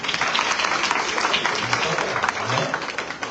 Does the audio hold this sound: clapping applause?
yes